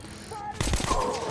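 Gunfire in Metro Last Light Redux, a video game, erupts as a sudden loud burst of rapid shots after a brief quieter lead-in, close and dense.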